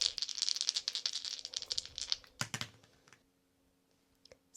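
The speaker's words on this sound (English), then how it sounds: "Going to add some Astro dice now." Astrology dice shaken in a hand and rolled onto a surface, a rapid clicking rattle for about two seconds followed by a couple of sharp clacks as they settle, then quiet.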